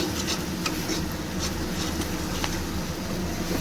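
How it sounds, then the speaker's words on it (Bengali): Spice masala for vegetarian aloo dum being stirred and fried in a pan, a steady close scraping and sizzling texture that runs without a break. "একটু ভালো করে নেড়ে ছেড়ে একবারে মশলাটাকে খুব সুন্দরভাবে কষিয়ে নেব।"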